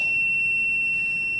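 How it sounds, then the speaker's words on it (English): Buzzer in a small box sounding one steady, constant-pitch tone, loud and continuous without any break, with no talking over it. "what I have here in this little box is a buzzer, and I'm going to activate it here."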